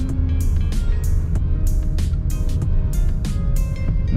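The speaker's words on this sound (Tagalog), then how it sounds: "medyo tumutunog na yung ating makina." A 2024 Toyota Wigo G with a CVT drones steadily as its engine revs past 2000 RPM, heard from inside the cabin. The hum stays continuous, with a low, even rumble and faint repeated clicks over it.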